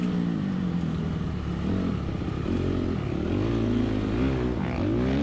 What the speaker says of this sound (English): It sounds like you're revving, so I'm guessing third.